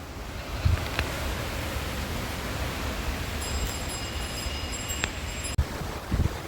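A strong night windstorm with rain in Sri Ganganagar, Rajasthan, roars as a steady broadband rush with a few thumps and faint tonal whistles, with no talking.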